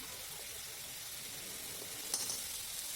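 A spice paste with green chillies stir-fries in a pan for a fish curry, giving a faint, even sizzling hiss with a couple of light scrapes toward the end. Nobody speaks over it.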